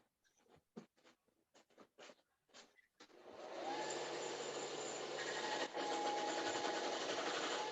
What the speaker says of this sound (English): I'm going to put it on the sander real quick.